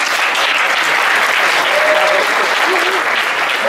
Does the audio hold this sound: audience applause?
yes